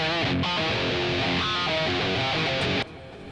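Electric guitar tone through a THR amp with the impulse response turned off, giving a scratchy, harsh distorted riff played loud and close that cuts off near the end.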